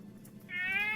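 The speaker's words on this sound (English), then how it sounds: "It was a cat." A house cat gives one clear, sustained meow that starts halfway through and holds to the end, close and fairly loud in an otherwise quiet indoor room.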